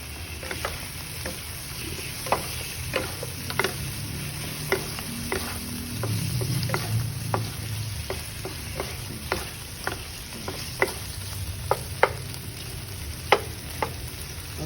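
Crab sticks sauté in a pan with Cajun seasoning, salt, soy sauce and oyster sauce, giving a steady close sizzle. Sharp scraping clicks of stirring recur through it, with a slightly louder frying surge in the middle.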